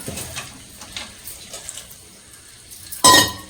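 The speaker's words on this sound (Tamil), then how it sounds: "1/4 டம்ளர் தண்ணி ஊற்றிக்கலாம்." Water is poured into a pan of mutton curry masala with beans and eggplant, a short loud splash near the end after quiet kitchen sounds.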